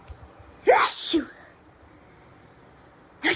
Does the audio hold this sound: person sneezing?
yes